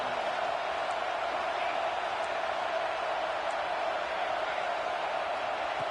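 Stadium crowd in an American football video game roars as a steady, dense wash of cheering that holds level throughout, with no pauses.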